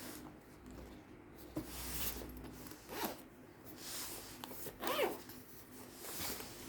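Zipper-like rasps and rubbing scrapes come in short bursts amid quiet handling noise, fairly close and soft, with a stronger pull near the end.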